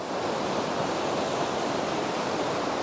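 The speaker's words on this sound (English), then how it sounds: "Look at the river." Steady rushing river water flows continuously, a broad even wash of sound with no voices, near Zermatt.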